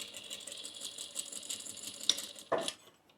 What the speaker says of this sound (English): I'll just sew these ends down